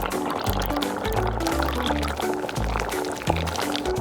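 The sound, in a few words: pouring milk for mac and cheese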